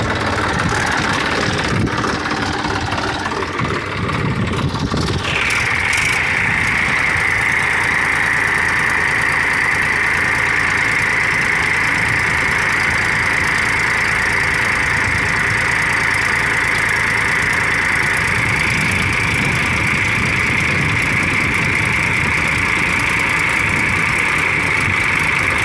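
A Massey Ferguson 1035 DI tractor engine runs steadily and loud throughout while pulling a cultivator in second gear high, a low rumbling idle with a rising whine that settles into a sustained drone.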